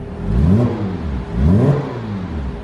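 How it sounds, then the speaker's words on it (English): Engine of a 987 Porsche Boxster S running on fresh oil, revved twice in smooth rising-and-falling swells over a steady idle rumble, close and fairly loud. "get a load of this engine. It sounds so healthy with that new oil in there."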